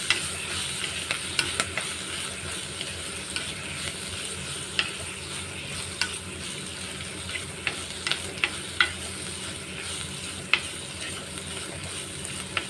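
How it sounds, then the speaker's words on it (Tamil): Dried fish fries in hot oil while being stirred, giving a steady close sizzle with scattered sharp clicks and scrapes of the spatula throughout, with no talk. "இந்த கருவாடை ஆட் பண்ணிக்கலாம் இந்த எண்ணெயிலே நல்லா வறுத்து எடுத்துக்கலாம்"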